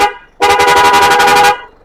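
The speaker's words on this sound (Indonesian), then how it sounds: "Klakson banter, Bro." Horn of a 2005 Isuzu Panther LV pressed in one steady, loud blast lasting about a second, alone with no talking.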